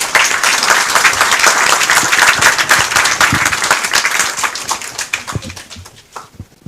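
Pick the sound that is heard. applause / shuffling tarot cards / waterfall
applause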